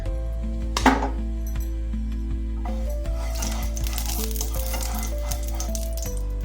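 Oil heating in a pan crackles with a steady sizzle throughout, with occasional light clinks of a utensil against the pan, while preparing a spiced eggplant dish; close and continuous, with no talk.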